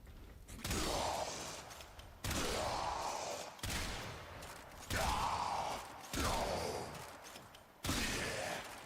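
Vendetta shotgun in Warframe reloading very fast, a run of six sharp mechanical shell-loading clacks roughly every second, each a loud metallic snap followed by a brief ringing tail, with no talk.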